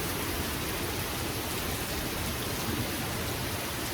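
Steady rain keeps up an even, hissing wash of drops with no breaks or swells, soft and continuous, and no voices on top.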